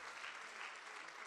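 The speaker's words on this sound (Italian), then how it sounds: "lo vogliamo fare con un applauso" Applause from a church congregation welcoming people forward before a baptism, a steady dense clatter of many hands at moderate volume with no other sound standing out.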